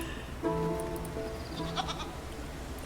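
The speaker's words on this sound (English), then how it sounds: "The elderly goat bleats weakly at you." An elderly goat bleats weakly in Titan Quest 2, a thin, drawn-out tremulous cry that starts abruptly and trails on under quiet ambient game sound, followed by a few fainter bleats.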